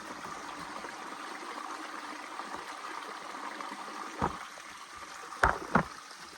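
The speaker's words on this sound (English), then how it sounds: "As you can hear, I'm by the water." Water flows steadily with a soft, constant rush, joined near the end by a few louder splashes or knocks close by.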